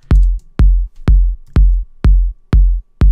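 Clicky low tom pitched up ten semitones, layered over an 808 kick in an electronic track: seven punchy hits at a steady pulse, each a sharp click with a booming low tail, loud and alone.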